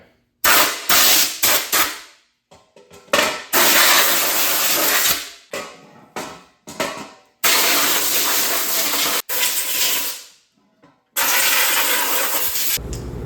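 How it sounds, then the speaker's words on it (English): Compressed air blasting loose debris out of a 1997 Mustang Cobra intake manifold: loud hissing bursts in repeated spurts of varying length, some sharp and short, others sustained for a couple of seconds, separated by brief silences. "Now with all the loose material and debris that's falling down in here, let's just blow it out."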